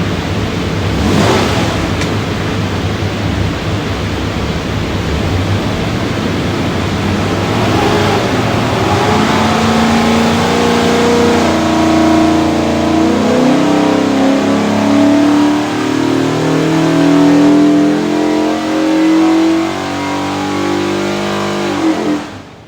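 A 347 cubic-inch Ford small-block with a custom-grind hydraulic roller cam, built for a 1965 Mustang, revs loudly on an engine dyno, climbing through a long sustained pull before dropping off abruptly at the end.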